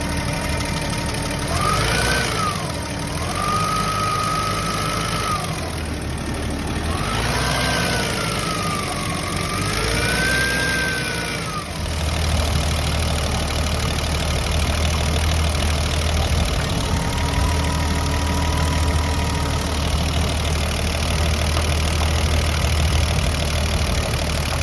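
A BMW E30 engine running after a coolant hose replacement, with a steady idle hum and low rumble throughout, plus a varying whine in the first half and a deeper, rougher tone later.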